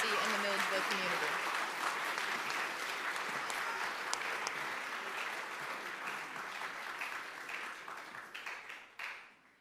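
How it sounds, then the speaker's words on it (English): Sustained audience applause fills a hall at a Georgia Military College academic honors ceremony, loud and dense clapping from a large crowd that holds steady and then tapers off. "Please give a round of applause to these outstanding serving leaders"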